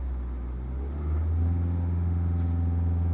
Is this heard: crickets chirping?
no